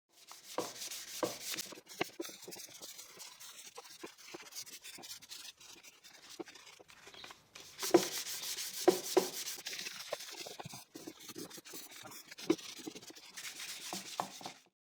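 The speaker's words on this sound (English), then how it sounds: "To further improve the finish, I will do some manual sanding. I will start with a 180 grit sandpaper" Hand sanding of a wooden piece with 180 grit sandpaper, continuous close rasping strokes in a steady back-and-forth rhythm, with a brief pause midway before the scratchy rubbing resumes.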